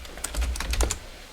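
A quick burst of several keystrokes on a computer keyboard, close and fairly quiet, lasting about a second.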